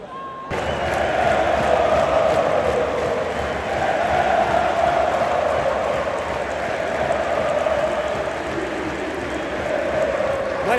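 A large crowd of Fluminense supporters sings steadily and loudly throughout a stadium during the Club World Cup final against Manchester City, forming a dense wall of chanting voices with no break.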